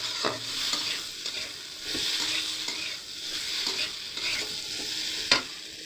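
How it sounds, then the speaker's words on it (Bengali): Potatoes coated in spice masala are stirred in a frying pan for a cauliflower dalna, giving a steady sizzle with repeated scraping strokes and a sharper clack near the end, close and with no voices. "আলুটাকে ভালো করে মশলার সাথে মিশিয়ে নেবো একবারে"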